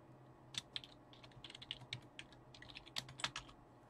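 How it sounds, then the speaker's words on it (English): Rapid, irregular clicking of keys on a computer keyboard, close and fairly quiet, in short bursts with brief pauses, alone without talk. "You can see me typing."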